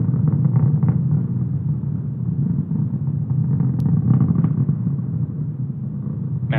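SpaceX Falcon 9 rocket climbing after launch from Kennedy Space Center on a Starlink mission: a steady, deep, distant roaring rumble that holds constant with no break.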